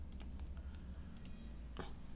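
A computer mouse gives a few sharp, close clicks at the desk during 3D modeling work, quiet and isolated, with one more distinct click near the end.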